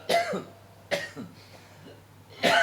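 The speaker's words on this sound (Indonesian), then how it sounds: "Maaf, agak batuk." A man coughs three times, each cough short and close, with quiet pauses between them, during a radio broadcast.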